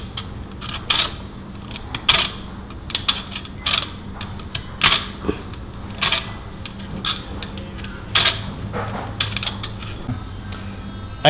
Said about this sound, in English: There we go, scraping it off there.